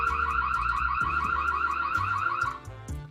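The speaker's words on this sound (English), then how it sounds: "we will be able to manually activate an alarm by pressing the following button" Loud electronic siren from an IMILAB EC6 security camera, a rapid warbling tone repeating steadily for about three seconds with no voices, fading slightly near the end.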